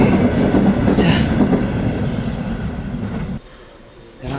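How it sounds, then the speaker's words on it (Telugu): A train rumbles loudly alongside, with rolling wheel noise and a high squeal, then abruptly drops off, leaving quieter station ambience. "రైల్వే స్టేషన్లో"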